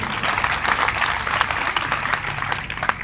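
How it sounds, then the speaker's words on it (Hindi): Audience clapping at a Hindi spiritual discourse, a steady, dense patter of many hands held at a moderate level with no speech over it. "आप ताली बजाई लो,"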